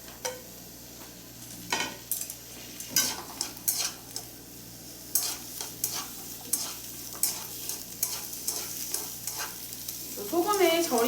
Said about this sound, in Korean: 굵어진 팬에 호박 먼저 넣어서 볶아주세요